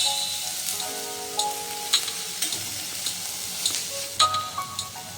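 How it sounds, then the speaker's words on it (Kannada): Capsicum and tomato fry in a pan for pav bhaji, a steady close sizzle with repeated clinks and scrapes of a spatula stirring through it, no voices. "ಕ್ಯಾಪ್ಸಿಕಮ್ಮು, ಇದನ್ನು ಚೆನ್ನಾಗಿ 1 ಮಿನಿಟ್ ಫ್ರೈ ಮಾಡ್ಕೊಬೇಕು."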